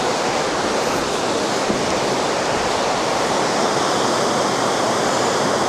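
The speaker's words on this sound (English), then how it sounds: "I believe this is still the Saco River." The Saco River rushes steadily where a small side stream called Fourth Iron joins it, a loud continuous broadband roar of flowing water with no breaks and no voices.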